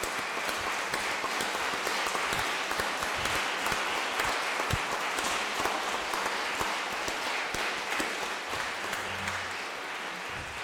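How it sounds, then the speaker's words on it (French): A congregation at a French Mass for the rose festival bursts into warm, sustained applause, dense clapping that carries on steadily and tapers slightly toward the end. "on peut applaudir chacun"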